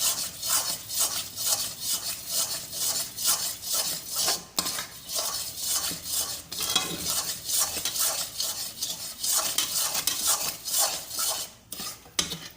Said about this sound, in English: Now you have to transfer it to the greased plate.